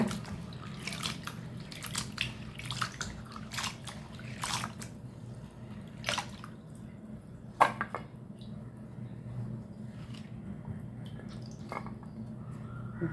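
Pirandai stems are washed by hand in water, giving soft irregular splashes, drips and squishy rubbing sounds at close range, fairly quiet over a low background hum.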